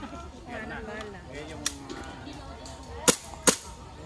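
An airsoft gun fires a few sharp, snappy shots near the end, two loud cracks close together after a fainter earlier pop, while people talk throughout.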